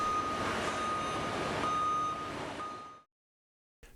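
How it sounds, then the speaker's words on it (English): A forklift in reverse gear sounds its warning beeper, a steady tonal beeping over engine hum that runs loud for about three seconds, then cuts to silence before a brief burst returns at the end. "Engage the PIT's reverse gear to ensure that the warning beeper is audible."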